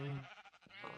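A single sheep in Minecraft Sky Factory 4 gives a brief, quiet bleat, its wavering call fading in and out with a faint voice nearby.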